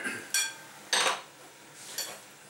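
A 1001 nights salad mixed in a bowl with utensils, giving three separate clinks and scrapes of metal against the dish, close and fairly quiet, with soft rustling between them.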